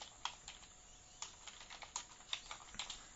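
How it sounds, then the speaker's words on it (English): Keys tapped on a computer keyboard while entering a new folder name, a quiet, uneven run of light clicks with short pauses between bursts, close and alone with no talking. "Type the new name for the folder, hit the Enter key"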